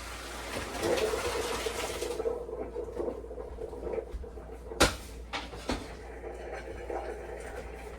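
Boiled macaroni noodles pour from a pot into a colander in a home kitchen, hot water splashing and pattering steadily, with a few sharp clanks of the pot against the strainer partway through.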